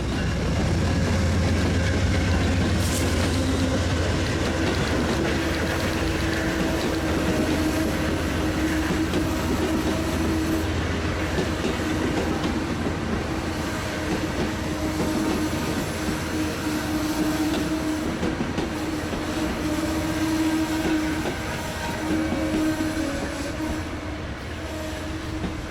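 An Amtrak passenger train rolls through Fullerton station with a sustained loud rumble of wheels on rail, punctuated by clicks and faint squeals as the cars pass steadily for the whole stretch.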